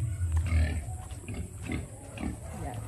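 A hungry pig squeals and grunts repeatedly close by at feeding time, loud and insistent, with low rumbling noise underneath.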